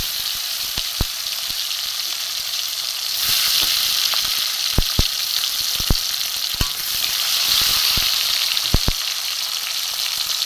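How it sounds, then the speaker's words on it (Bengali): Chopped tomato sizzles in hot fried tempering spices for chickpea dal, a steady loud hiss with sharp clicks and taps of stirring throughout; no talking. "ফোড়নের মধ্যে আমি টমেটো কুচি দিয়ে দেবো।"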